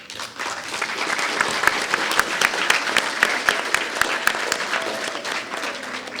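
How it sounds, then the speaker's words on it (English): Steady, dense applause fills the room from an audience thanking the panelists after a talk on the Spanish reports of the 1798 battle in Belize. It holds at an even level throughout with no talk. "Thanks for the warm applause."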